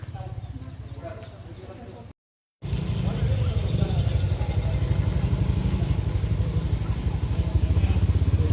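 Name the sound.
motorcycle engine starting and riding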